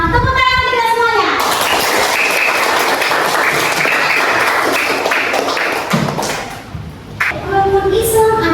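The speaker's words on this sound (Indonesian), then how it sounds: "Tepuk tangan kita semuanya." Children in a classroom burst into loud, close applause for several seconds, with a voice before and after it. The clapping thins toward the end as voices return.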